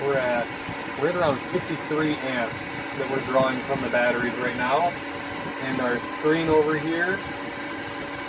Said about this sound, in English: the fans in the inverter kicked on